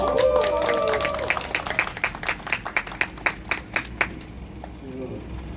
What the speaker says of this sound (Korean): 여러분 환호와 박수 부탁드립니다.